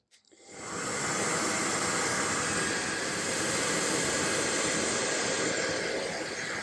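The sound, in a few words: hair dryer blowing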